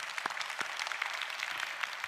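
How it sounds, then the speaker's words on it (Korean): Church congregation applauding during a sermon, a faint, steady patter of many hands clapping at a distance, brief and uniform with no voices over it. "하나님께 박수합시다."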